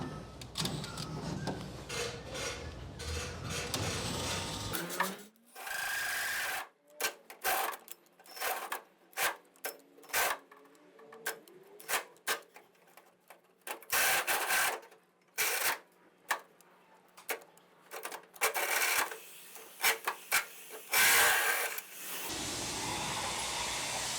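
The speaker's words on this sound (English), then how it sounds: "Now, using a 2-inch hole saw, you can either drill up through the bottom of the bed or you can drill down through the top side of the bed." A 2-inch hole saw bores through the bed of a 2011-2016 Ford F350, the drill whirring and grinding in stop-start bursts with clattering between them, fairly close and steady within each burst.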